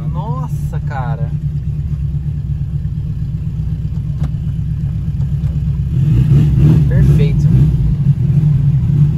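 A turbocharged car engine rumbles steadily up close, then grows louder and rougher partway through as it revs, while people talk over it.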